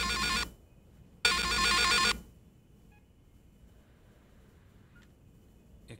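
A telephone rings in a Wii horror game, two loud electronic ring bursts close together, then near silence with faint tonal blips.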